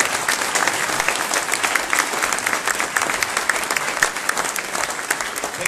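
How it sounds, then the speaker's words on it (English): Audience applause after a talk at a Speck&Tech meetup on data infrastructures: a sustained, even wash of many hands clapping, loud and unbroken, with no voices on top. "Another big applause."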